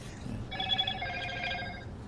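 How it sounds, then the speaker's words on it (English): A phone rings in a casual indoor lounge, its electronic ringtone trilling steadily for over a second over low room noise and a faint background murmur. "Your phone's still blowing up."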